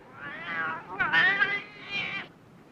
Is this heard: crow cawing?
no